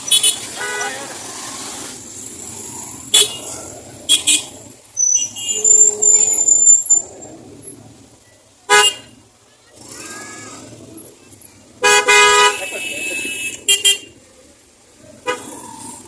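Motorcycles and a car honk repeatedly in a wedding procession, with short bursts of horn toots separated by gaps, traffic noise and people talking in between.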